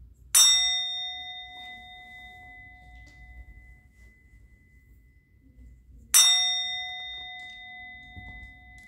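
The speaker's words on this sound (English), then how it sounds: "I'm going to ring the bell." A bell struck twice, about six seconds apart; each strike rings out with clear, sustained metallic tones that slowly fade into quiet, with no talking.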